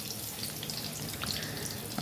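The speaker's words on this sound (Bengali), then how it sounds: "দেখুন এইভাবে আমি কিন্তু বেগুনটা ভেজে নিলাম" A steady, close hiss of eggplant frying in hot oil fills the short stretch, even and continuous with no voices.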